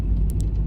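A car drives along a coastal road toward the Port Soif beach car park on Guernsey, its steady low engine and road rumble continuous and close throughout, with a couple of brief high ticks.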